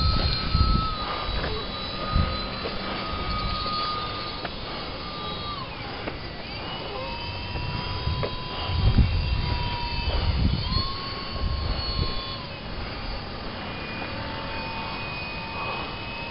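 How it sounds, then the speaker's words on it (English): A Slowbipe RC model biplane flies slowly over a street, its small electric motor giving a thin, wavering whine that rises and falls in pitch as it passes, with low rumbles of wind or traffic beneath. "going to do another flight with my Slowbipe now that I got it all trimmed out"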